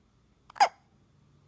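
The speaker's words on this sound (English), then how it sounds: "The monkey boy has hiccups." A baby's single sharp hiccup, close and brief, standing out against near silence.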